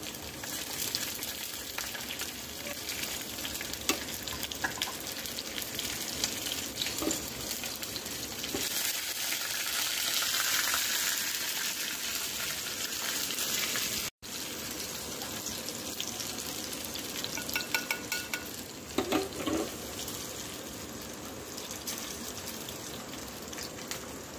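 Garlic with dry red chilies and green chilies sizzling in hot oil for a tadka in a kadhi pakoda recipe, a steady crackling hiss throughout with brief louder spatters and no talking.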